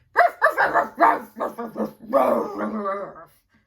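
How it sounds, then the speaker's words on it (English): Barking from an old hound, a string of about eight quick, loud barks up close, followed by a longer drawn-out cry, with no other sound behind them. "The old hound started to bark"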